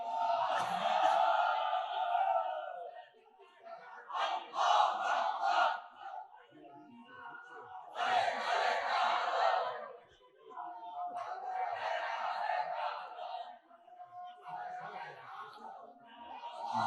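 A large gathering at an Islamic sermon answers with repeated takbir chants, loud unified shouts rising in several surges and falling back to a quieter crowd in between.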